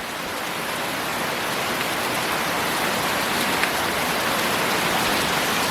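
Heavy rain pours steadily onto an REI Passage One tent (2020 model), a dense, continuous hiss of drops drumming the fabric close by, unbroken and with no voices.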